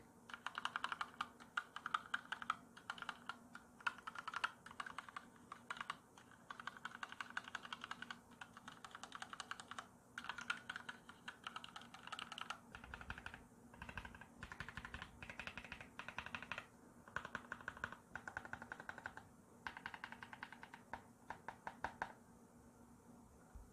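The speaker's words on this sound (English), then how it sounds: "these pink flamingo switches sound very similar in key profile and key travel distance to black switches" Rapid typing on an EPOMAKER EK21 gasket-mount number pad with pink flamingo linear switches, a close, quiet flurry of soft clacks in uneven bursts.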